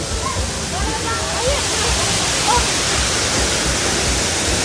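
A waterfall near a castle hill and beach gives off a loud, steady roar of rushing water. It fills the whole clip with broadband noise and has faint voices beneath it.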